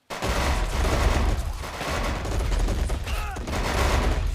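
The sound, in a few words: gunfire in the video game Men of War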